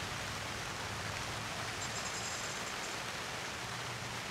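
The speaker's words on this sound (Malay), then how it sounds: "Hujan. Kali ni hujan tak tempiah." Rain falls steadily at the TWC campsite, a constant, even hiss with no pauses or talking, heard up close and fairly quiet.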